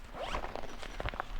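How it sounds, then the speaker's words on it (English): The side pocket of a bicycle bag is zipped, a short close rasping run of zipper teeth lasting just over a second. "they zip up"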